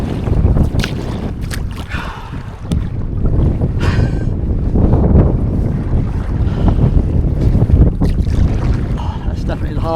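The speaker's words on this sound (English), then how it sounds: "That's some hard paddling against the wind, but boy, that was hard." A paddled boat fights strong wind and choppy waves on Lake Rogen, with heavy buffeting wind noise on the microphone over irregular splashing and water churn. It stays loud and constant throughout, with no clear voices.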